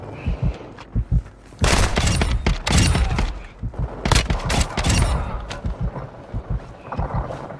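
Heavy video game gunfire in Call of Duty DMZ, with a few single shots followed by dense, loud bursts of automatic fire and scattered impacts, continuing in irregular volleys.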